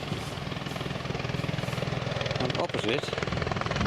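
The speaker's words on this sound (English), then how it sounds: "is where you get a helicopter to look at the Iguazu Falls." A helicopter's rotor thumps rapidly and steadily, fairly close and loud, at Iguazu Falls, while a person speaks briefly underneath.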